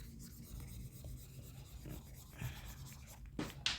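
An eraser rubs writing off a classroom board during a chemistry lesson, a soft continuous rasping scrape with a few firmer strokes near the end, close and fairly quiet.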